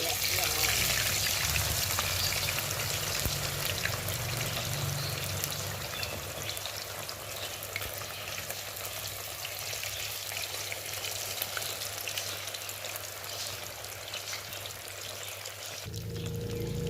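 Tilapia fillets fry in oil in a pan over low flame, giving a continuous soft sizzle and hiss close by that shifts slightly partway through.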